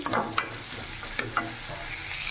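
Chopped onions, green chillies and curry leaves frying with mustard seeds for a Rayalaseema-style brinjal fry, a dense close sizzle broken by a few sharp spatters and stirring scrapes, no talk.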